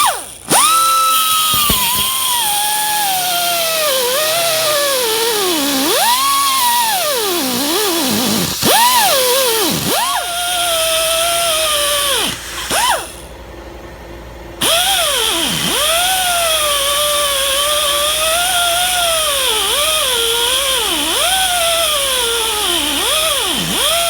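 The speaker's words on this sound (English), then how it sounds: "we've cut the rivet heads off" A power tool cuts off rivet heads, its motor screaming loudly and close with pitch dipping and rising as the load changes, briefly pausing before resuming steady grinding.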